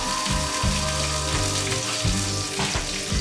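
Spices tempering in hot oil for upma premix crackle and sizzle steadily in a pan, close and continuous, with a low rhythmic rumbling underneath.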